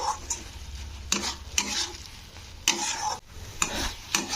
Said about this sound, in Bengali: তোমরা কিন্তু এইভাবে মাঝে মধ্যে একটু নাড়াচাড়া করে দেবে না হলে নিচে কিন্তু বসে যাবে